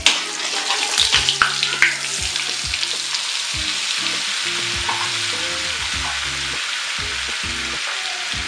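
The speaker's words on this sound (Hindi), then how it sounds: "तो चलिए ऑयल हमारा गर्म हो गया है, अब हम इसमें डालेंगे अमूल का बटर।" Amul butter sizzles steadily in hot oil in a pan, a loud continuous hiss with crackle, close and alone, with a few scrapes near the start.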